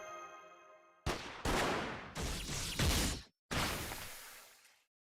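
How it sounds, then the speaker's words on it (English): Gunfire in the Fate/Grand Order video game: several loud, sharp blasts in succession, each with a long echoing decay, following a quieter tonal hum. "Master, those gunshots just now"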